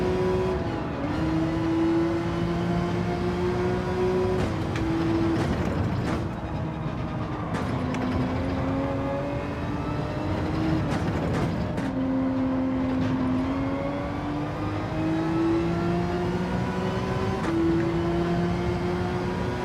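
McLaren race car in Gran Turismo 7 racing, the engine rising in pitch through each gear and dropping sharply at every upshift, steady and prominent with no talking.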